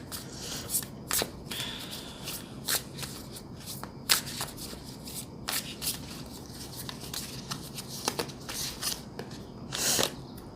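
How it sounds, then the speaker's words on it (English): Tarot cards shuffled by hand in a steady run of soft riffling bursts and papery slaps, close and fairly quiet, with no talking. "I'm going to be pulling some additional cards for you as advice."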